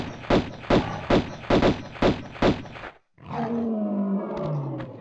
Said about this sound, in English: Wait for the bear to come to you and have Lara lock onto the bear.